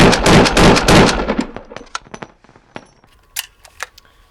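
Kalashnikov AK-pattern rifle fired in a rapid full-auto burst, loud and close, followed by a few scattered single shots and echoing cracks, no talking.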